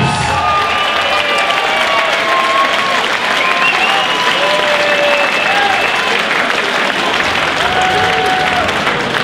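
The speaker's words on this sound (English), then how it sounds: "let's give a nice round of applause out here for both of these fighters" A large crowd at a fight event applauds and cheers the two fighters, loud dense clapping continuing steadily throughout, with whistles and shouted voices mixed in.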